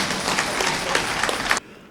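Audience at a Tamil comedy debate hall applauds, a dense wash of clapping for about one and a half seconds that cuts off abruptly into quiet.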